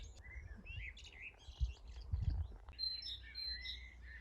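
A thrush sings varied, fluty phrases outdoors at a moderate distance, with other birds chirping faintly and low rumbling background noise.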